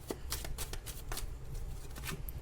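Tarot cards are shuffled by hand in a quick series of close, crisp riffling flutters and soft taps with brief gaps between bursts, and no talk.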